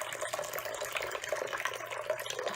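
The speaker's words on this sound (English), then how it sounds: "we're going to pour this one off as well" Liquid is poured off from a vessel, leaving settled granular humic solids behind, with a steady, fairly faint splash and trickle throughout and no voices.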